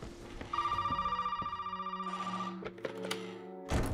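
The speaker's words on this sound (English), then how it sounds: "The phone has to ring inside this house." A telephone rings inside a house in the video game Resident Evil 7, a steady electronic ring pulsing rapidly for about two seconds before a few thuds and footsteps follow, fairly close and moderately loud.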